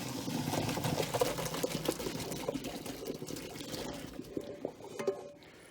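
Boiled potatoes and their cooking water pour into a colander in a kitchen, a steady rushing splash lasting several seconds that slowly thins and tapers off at the end.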